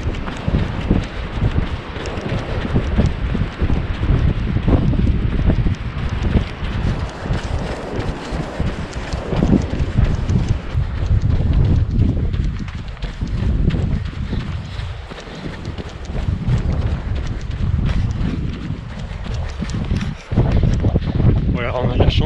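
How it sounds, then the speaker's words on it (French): Strong wind buffeting the microphone on a beach during a trail running ultramarathon, a continuous loud roar with footfalls and breathing mixed in. "on a le vent dans le dos"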